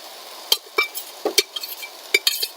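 Pressure-cooked moong being added to a pan for moong sabzi, heard as scattered clinks and scrapes of a metal spoon against the pan, short sharp taps spaced irregularly with no talking.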